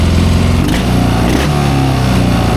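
A 1972 Triumph 650 Bonneville motorcycle engine runs loudly and steadily throughout, its low rumble rising briefly as the throttle is blipped.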